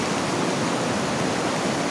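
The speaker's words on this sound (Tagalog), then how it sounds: "Oh, Diyos ko, lakas-lakas ng tubig." Strong floodwater rushes during a typhoon, a loud, dense, unbroken roar of churning water close by with no voices over it.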